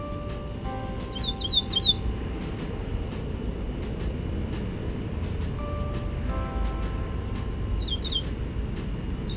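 Bright chirps from birds building a nest come in two short bursts, moderately close, over a constant low rumble of distant traffic.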